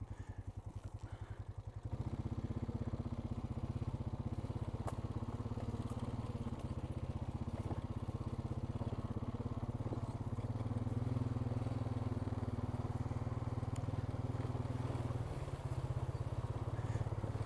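A Honda Rancher ATV runs along gravel and chert rock trails, its engine droning steadily and close after a brief quieter start, holding a constant, even rumble with slight rises in revs.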